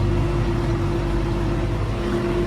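A tractor engine labouring under load while pulling a Veles agro plough through snow-covered ground, a steady loud droning hum with a strong low tone and no break.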